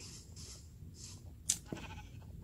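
Faint, soft bleats from sheep in the video game Minecraft repeat a few times at a low level, with a brief sharper click partway through.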